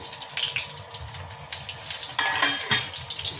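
Cumin seeds dropped into hot oil after mustard seeds, a soft continuous sizzle with light crackles and a few metallic pan clinks, close and fairly quiet.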